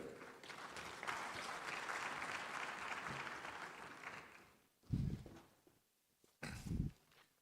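An audience at the 30th Afreximbank Annual Meetings 2023 conference applauds in a sustained burst of clapping that fades out, followed by two short, dull knocks.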